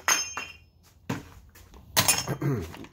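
Metal drawer hardware is taken off a painted wooden dresser salvaged from beside a dumpster: a few sharp clinks and knocks in separate bursts, close by, with quiet gaps between them.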